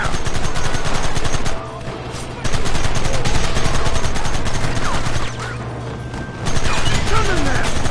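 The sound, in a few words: gunfire in Red Dead Redemption video game shootout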